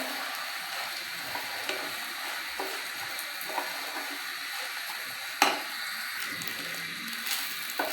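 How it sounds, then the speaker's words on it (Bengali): Polao rice frying in a pan for carrot polao, a steady soft crackling sizzle with light stirring clicks throughout, fairly quiet and close, with one sharper scrape near the middle. "পোলাওটা আমি 2-3 মিনিট ভেজে নেব।"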